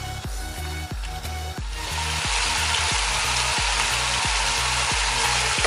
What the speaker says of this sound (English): So I'm going to like stir fry this for like 5 more minutes